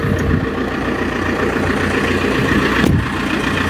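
Idling 1.9 MultiJet diesel engine of an Alfa Romeo 159 after a control unit repair, a loud, rough, steady clatter that runs unbroken throughout with no voices.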